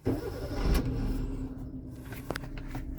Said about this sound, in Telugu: వెహికల్ స్టార్ట్ చేస్తున్నా